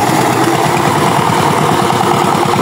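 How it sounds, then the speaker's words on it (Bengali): A farm machine's engine chugs steadily at close range as it ploughs a field, with a low, even pulsing rhythm and no voices. "তো দেখতেছেন জমিতে চাষ হইতেছে"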